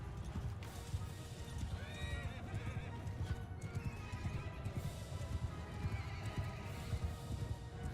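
Horses in the medieval battle game Bannerlord whinny loudly over a dense rumble of galloping hooves, with several neighs rising above the thundering mass of cavalry throughout.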